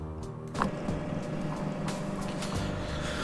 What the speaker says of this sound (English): someone's running their truck on a budget